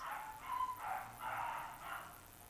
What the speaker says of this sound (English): noisy, noisy dogs